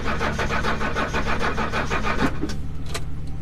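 Old Mercedes wagon, sitting in a garage for 20 years and running on jumper cables, cranking over on starting fluid: a rapid rhythmic churning of the starter and engine that stumbles without catching and fades at the end.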